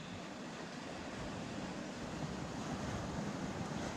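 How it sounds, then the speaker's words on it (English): Ocean waves wash over the coastal rocks where people fish on a Sydney shoreline, a constant broad roar of surf and swirling water, close and steady, with some wind buffeting the microphone. "Just where there's waves coming along now, where it reforms into that little hole there."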